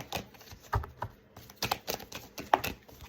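A deck of cards being shuffled during a tarot-style reading, giving quick papery riffles and taps in short irregular bursts, close and fairly crisp with no voice over it.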